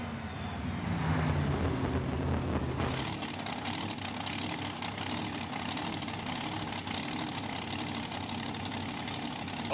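The Snakebite monster truck, with its 460 cubic inch supercharged engine, gives a low steady engine roar that shifts abruptly after a few seconds into a harsher, broadband droning hum, continuous and fairly distant.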